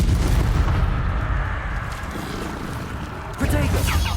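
A Confringo spell blast in Hogwarts Legacy lands as a loud, low rumbling explosion that swells and slowly decays, and a second heavy hit arrives near the end with a voice over it.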